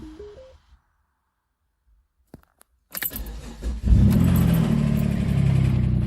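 A 2007 Dodge Nitro with an oil pressure fault cranks and catches after a few quiet key and door clicks, then settles into a loud, steady, rough engine run close by, with no talk over it.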